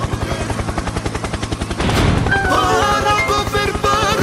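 A helicopter's rotor beats rapidly and steadily in the video game Zelda: Tears of the Kingdom. The beating is loud and close, and it blends into game music and effects in the second half.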